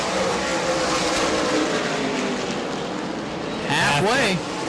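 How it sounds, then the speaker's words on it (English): Super late model race car engines drone steadily at Auburndale, then one roars past with a rising and falling whine, while a commentator talks over the noise. "You have 4 cars now battling for that spot."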